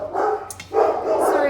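Dogs bark indoors, two loud, close barks with a short break between them, with a voice audible underneath.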